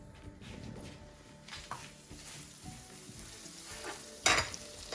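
Doughnut dough for custard-filled doughnuts dropped into hot oil, a faint steady sizzle with soft stirring and a sharper clink near the end, quiet and close.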